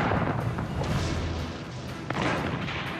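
Massed artillery cannon fire in the Ardennes in December, a dense rumbling barrage of overlapping booms and thuds that stays loud throughout.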